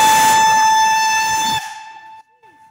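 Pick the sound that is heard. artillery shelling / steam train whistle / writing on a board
steam train whistle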